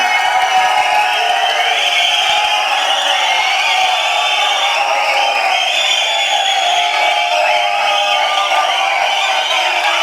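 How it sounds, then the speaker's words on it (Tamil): A large audience at the Garudan trailer and audio launch for actor Soori applauds and cheers in a dense, continuous roar. The noise holds steady and loud for the full stretch. "ஒரு நல்ல கைத்தட்டலுடன் ஹீரோ சூரியன் அவர்களை பேச வைக்கிறோம்"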